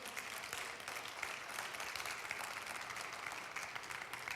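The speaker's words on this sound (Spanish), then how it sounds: "Dale un aplauso a mi Señor." Congregation applauding during a church sermon: a steady, even wash of clapping fills the whole stretch at moderate level, with no voices rising above it.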